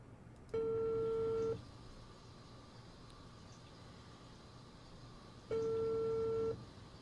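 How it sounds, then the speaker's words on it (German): In the video game Unheard, a phone call plays its ringback tone: two long, steady beeps about five seconds apart over a low background hum. "Call Dwight"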